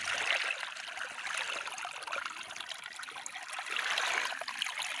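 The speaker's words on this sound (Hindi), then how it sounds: "तो मुझे इस तरह से जो पानी की आवाज़ है वो इतनी अच्छी लगती है" Cool water trickles and splashes steadily in a kitchen garden among young tinda plants on a hot summer evening, a continuous close, bright babbling flow with no voices.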